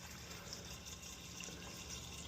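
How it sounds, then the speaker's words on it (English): Bleach pours into a pressure washer sprayer as a faint, steady hiss of liquid with a soft wash of outdoor background noise and no talking. "Pouring the bleach into the sprayer."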